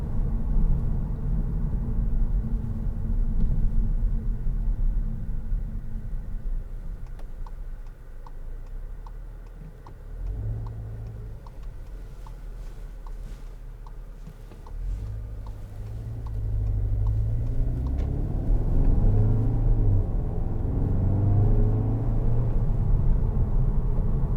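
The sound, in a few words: Skoda Octavia 245 vRS DSG engine during test drive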